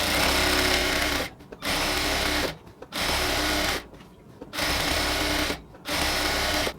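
Sewing machine stitching salwar pant fabric along the edge, running in four bursts of steady whirring motor and needle chatter separated by short pauses, close and loud with no talking.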